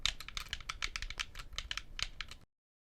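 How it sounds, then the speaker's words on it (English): Rapid plastic clicks and taps from the sticks and buttons of an 8BitDo SN30 Pro Plus gamepad, close and fairly quiet, in an irregular flurry for about two and a half seconds before cutting to silence. "I'm going to just click the sticks around and stuff."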